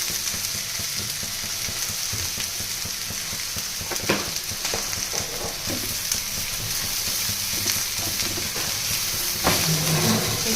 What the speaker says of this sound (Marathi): हे सर्व पटपट आपल्याला मंद गॅसवर, कमी गॅसवरती भाजून घ्यायचे आहे.